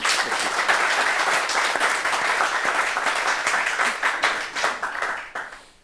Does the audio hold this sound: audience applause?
yes